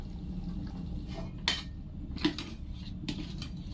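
Metal lid set back onto a cooking pot of potato and mung bean fritter curry, giving a few brief clinks against a quiet steady simmer.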